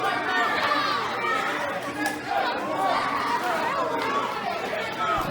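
A wrestling crowd murmurs and chatters loudly in a dense, steady wash of many voices, building with restless energy through the whole stretch.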